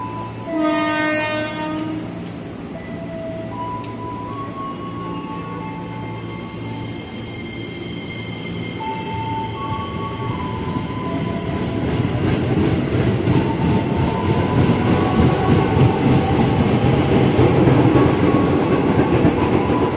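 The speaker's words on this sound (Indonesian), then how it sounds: "Seperti itulah perjalanan kita naik KRL Komuter Line dari stasiun Depok" KRL Commuter Line Loop Line electric train departing Depok station in Indonesia, fresh out of the Depok depot: a loud horn blast at the start, then a rising rumble of wheels on rails and rhythmic clatter that grows steadily louder.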